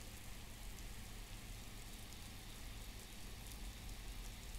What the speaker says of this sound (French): Il est plus difficile d'escalader les surfaces rendues glissantes par la pluie.